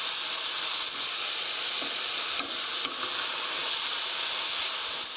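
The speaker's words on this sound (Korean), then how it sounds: "5분, 5분 정도 볶아주세요" Onion, garlic and paprika stir-fried in a pan for spicy tteokbokki, producing a loud, dense, continuous hiss and sizzle with a few soft stirring knocks, close and without speech.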